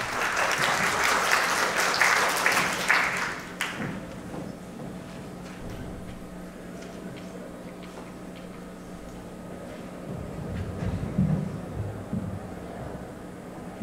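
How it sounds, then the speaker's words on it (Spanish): Audience applause at a symposium on endemic and threatened Andean Peruvian flora, a loud burst of clapping for roughly three and a half seconds that cuts off, leaving a quiet room with faint rustling and movement. "Recibimos al doctor Miguel Manchava con un aplauso."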